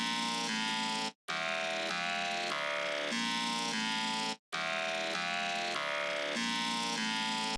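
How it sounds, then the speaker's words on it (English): Buzzy, harmonically rich bass one-shot from a Drakon stash kit, sustained and loud with stepped pitch changes, broken by two brief silent gaps, heard alone. "the bass is also a one shot out of my Drakon stash kit"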